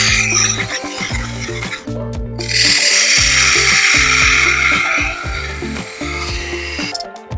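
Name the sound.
woodturning lathe tool cutting a nub into the wood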